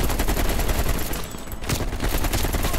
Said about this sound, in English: This is the weirdest sounding AK, by the way.